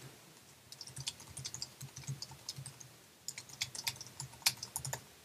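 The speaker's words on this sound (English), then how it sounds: "We're going to type in our to-do item, hit tab." Fingers tap out text on a computer keyboard in quick irregular bursts of soft clicks, close and fairly quiet, with a short pause midway.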